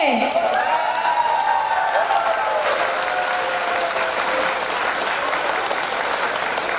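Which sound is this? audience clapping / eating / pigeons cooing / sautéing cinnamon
audience clapping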